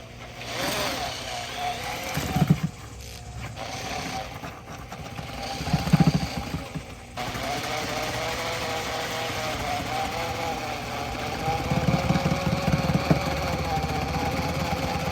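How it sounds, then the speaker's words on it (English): A drill fitted with a mixing paddle whirs steadily as it stirs thin-set tile mortar in a bucket for waterproofing a bathroom, running in long continuous stretches with brief pauses and a few knocks against the bucket. "After making the cuts, I began mixing my thin set."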